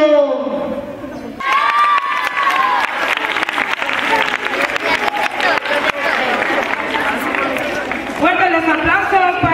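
An audience claps and cheers at a school recitation contest honouring Tacna, with loud sustained applause and crowd noise and children's voices, while a presenter speaks over it on a microphone.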